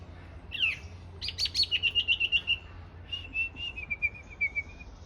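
A bird at a zoo sings a sequence of varied whistled and chirping phrases, mimicking other birds' calls, bright rapid trills in two bursts, fairly close over a quiet background.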